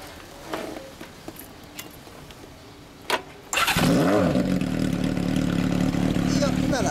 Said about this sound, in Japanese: ちょっとスネークサウンド聞かせてもらってもいい？